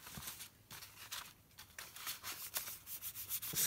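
Paint being smushed and rubbed onto journal paper, a soft, scratchy friction coming in short repeated strokes that grow quicker and louder toward the end, close by and alone.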